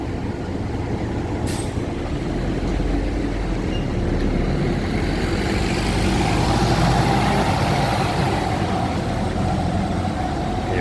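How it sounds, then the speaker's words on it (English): A Swan Transit bus running not in service rolls past at a stop, its engine a steady, broad drone that swells and fades over several seconds amid street noise, with a brief hiss near the start. "2683 now, not in service, and that is a Swan Transit bus"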